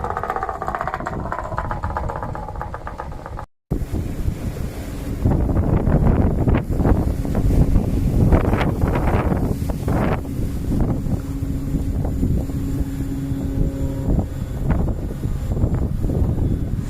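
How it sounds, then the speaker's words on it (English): Strong wind batters the microphone on the coast near Lochranza on Arran, a loud, continuous roar with gusty surges and a brief dropout, engine-like hum underneath. "Even the old flagpole is shaking in the wind"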